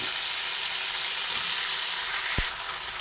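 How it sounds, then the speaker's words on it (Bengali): Watermelon rind sizzling and frying steadily in a hot pan while being stirred, a loud, continuous hiss with a brief knock near the end. "পুরো খোসাটা দিয়ে দিলাম দিয়ে দেওয়ার পরে ভালোভাবে নাড়াচাড়া করে নিচ্ছি"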